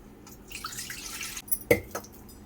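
Cool water splashes and trickles into a bowl nearby, a soft pouring wash ending in a couple of distinct drips and splashes.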